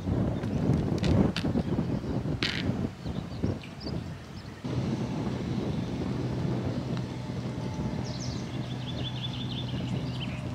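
Wind gusts across a golf course, a steady rushing buffet on the microphone with a few louder bursts early on and faint incidental knocks and rustles.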